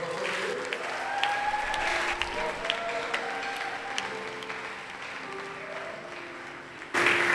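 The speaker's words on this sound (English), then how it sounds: "You want to give Jesus a round of applause?" A church congregation at an evangelistic service claps in a round of applause for Jesus, a steady, moderately distant patter of many hands over held musical tones, ending with a sudden louder swell.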